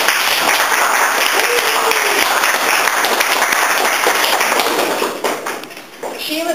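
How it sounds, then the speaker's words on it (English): An audience claps steadily in a room, a fairly loud continuous patter of hands that thins and drops away near the end, with a high electronic whine running throughout. "This is your audience, so clap a little bit."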